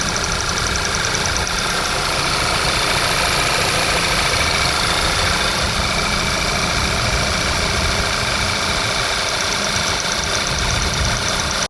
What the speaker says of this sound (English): Car is running fine.